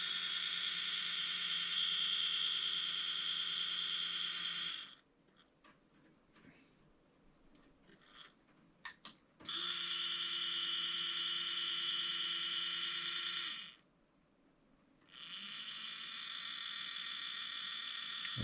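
The tuning motor on a weatherproofed four-band magnetic loop antenna runs in slow mode with a steady high whir. It cuts out briefly, with faint clicks and taps in the gap, starts again, stops, and then resumes.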